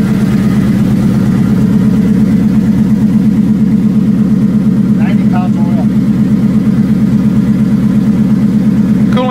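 Freshly started engine of a 25th-anniversary race car running steadily at idle, a loud continuous low rumble with a few faint higher chirps partway through.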